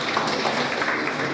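A short burst of audience applause for a student's correct answer at an education programme, a dense, steady patter of many hands clapping at once with no talk over it.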